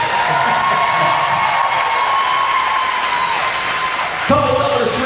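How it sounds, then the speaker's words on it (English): A crowd in an arena applauds steadily for a couple after their performance at a community figure-skating charity event, dense clapping and cheering held throughout, with a brief voice cutting in near the end. "Give one more round of applause, Rose and Jared."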